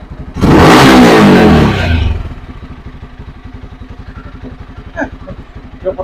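A Motorstar Xplorer 250 V2 motorcycle with a silencer revs hard once, a loud rising roar lasting about two seconds, then settles back to a close, steady chugging idle with a few short clicks.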